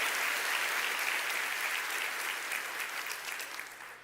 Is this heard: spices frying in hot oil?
no